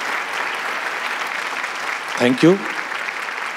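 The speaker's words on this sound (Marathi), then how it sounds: "एकदा जोरदार टाळ्या त्याच्यासाठी" A live audience at a Marathi comedy show gives loud, continuous applause throughout. A voice briefly speaks over the clapping partway through.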